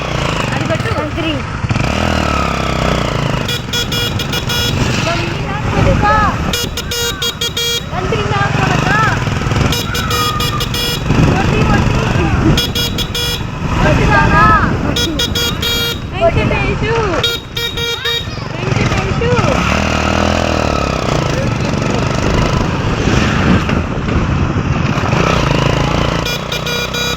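A motorcycle engine drones steadily through a ride on a road, with honking horns from nearby traffic and two people talking throughout over the noise.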